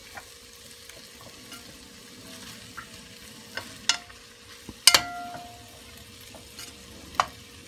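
Corned beef and potatoes fry in melting fat with a soft, steady sizzle, broken by scattered utensil clicks and scrapes, one sharper knock in the middle, with no voices.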